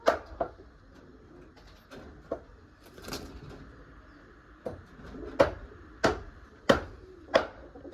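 Male pigeons coo softly at close range, broken by several sharp, repeated flaps and knocks, with quiet background between them.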